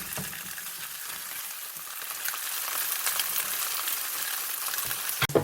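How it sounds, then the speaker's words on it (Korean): Fresh rockfish frying golden in a pan, a continuous bright crackling sizzle that stays close and steady, ending with a sharp clatter. "노릇노릇 조금 맛있게 잘익어줍니다"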